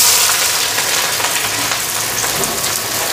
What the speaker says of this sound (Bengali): এই জায়গায় ভাজাটা বসাইয়া দিলাম